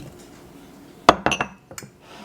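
Smoothie ingredients dropped into a blender cup: one sharp clink followed by a few lighter knocks and taps in a quiet room.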